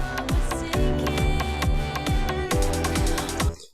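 Cymatics infinity kick one-shot played in a repeating house drum pattern, deep punchy kicks with long low tails, evenly spaced and loud, with sharp hats and percussion layered on top and a sudden stop at the end.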